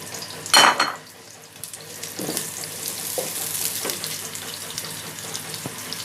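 Onions added to hot oil in a pan for a potato and paneer curry, a sharp burst of sizzle at the drop, then a steady crackling fry with a few faint knocks.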